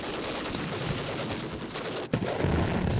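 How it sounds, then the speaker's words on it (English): Dense, unbroken gunfire and artillery from a World War I battle crackle and thud without pause, ending in a sharp close blast followed by rumbling fire. "Gunfire never ceased."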